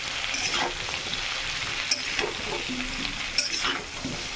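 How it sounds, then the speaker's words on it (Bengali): Fish curry with cauliflower and potato, just dosed with cumin powder, is stirred in a frying pan, giving a steady sizzle broken by a few sharp scrapes of the spoon against the pan, close and without talk. "জিরে গুঁড়ো দিয়ে দিলাম। এবার ভালো করে নাড়িয়ে নেব।"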